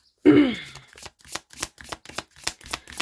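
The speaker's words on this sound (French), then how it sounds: "On va aller chercher une première carte pour vous." Tarot cards are shuffled and drawn close up, opening with one soft thud and then a quick run of crisp, rhythmic riffling snaps, with no talking.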